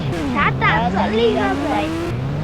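A motorbike is ridden in a video game, its engine tone rising and sliding in pitch under continuous excited talking.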